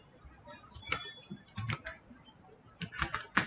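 Light, uneven keystrokes tapped on a computer keyboard while entering a shutdown command on a Windows XP machine, soft clicks in short bursts with pauses between.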